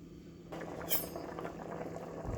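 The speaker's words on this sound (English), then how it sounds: "So I'm just gonna let it boil for like the next 15 minutes or so." Jamaican curry shrimp with beans, green onions and thyme boiling in coconut milk: a soft, close bubbling simmer that starts after a half-second pause and continues evenly, with one faint clink.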